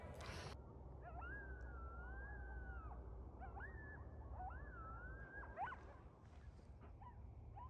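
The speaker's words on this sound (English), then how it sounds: "Coyotes are starting early tonight. It's not even 5 yet, and they're off howling in the distance." Coyotes in central Oregon canyon country at dusk, distant wavering howls and yips rising and falling over a few seconds, faint against steady low background noise.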